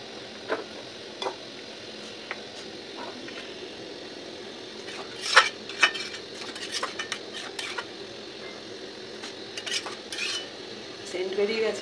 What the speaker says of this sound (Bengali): চলো এটা একটু নাড়াচাড়া করে